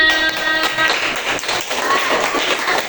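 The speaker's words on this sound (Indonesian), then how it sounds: "Kita beri aplaus bersama-sama." A group claps for a presenting team in a classroom, a short burst of scattered applause that starts over a brief musical tone and fades into lighter patting.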